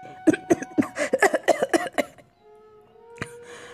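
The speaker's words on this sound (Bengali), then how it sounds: "রাসবিহারীর গলায় ভাত আটকে যায়। জোরে একটা কাশি দেয় সে।" A man choking on rice lets out a burst of roughly eight loud, rhythmic, close coughs, followed by a quieter pause with a faint lingering tone.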